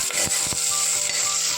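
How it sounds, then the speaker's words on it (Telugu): A large green chilli fries in a hot pan for vegetable pulav, a steady sizzle broken by a few sharp stirring scrapes and knocks. "ఒక గ్రీన్ చిల్లీ పెద్దది, గోల్డెన్ బ్రౌన్ వచ్చేంత వరకు ఫ్రై చేసుకోవాలి."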